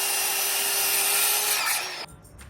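Power drill boring holes into concrete in a barn gym wall repair, a loud, sustained high-pitched whine with grinding that cuts off abruptly near the end, leaving quieter background noise.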